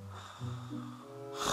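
A voice imitates the snoring of a sleeping doll at a pretend spa, with low rumbling snorts and breathy gasps drawn out over about a second and a half, close and fairly quiet.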